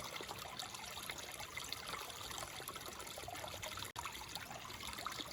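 Faint, steady rush of flowing water, like a small stream trickling over stones, continuous with no voices.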